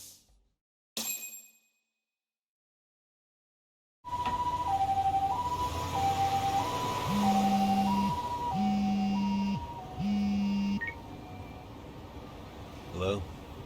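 An ambulance siren in the video game Lost Judgment wails in a steady repeating two-tone pattern after a brief silence, loud and close, with a short electronic blip beforehand.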